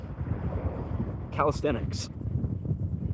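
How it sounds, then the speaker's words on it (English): Wind blows on a beach, a low rumbling buffet across the microphone that continues throughout, while a person speaks briefly over it midway. "For now, though, it's very windy"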